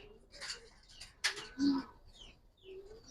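Silver Giribaz pigeons in a loft give a few soft, low coos among faint chirps and scattered background noise, quiet and intermittent.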